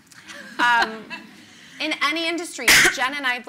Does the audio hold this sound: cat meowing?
no